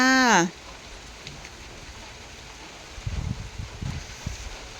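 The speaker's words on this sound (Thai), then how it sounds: "ฝนน่าจะตกทั้งวันนะจ๊ะมื่อเนี่ย" Rain falling over a Thai village during an all-day downpour, a soft, faint, steady hiss with a few low patters, following a short voice at the very start.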